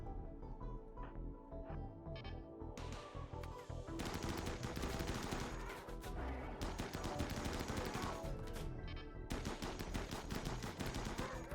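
Rapid gunfire bursts from a RimWorld battle, sharp crackling shots in dense volleys with brief gaps, loud and continuous in the later half with no voices.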